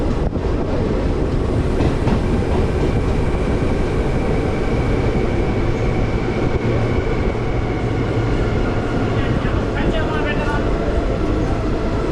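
Sri Jagannath Express running on rails near Mecheda station, a loud continuous roar of wheels and carriages heard from on board, with steady rumble and faint rhythmic clatter throughout.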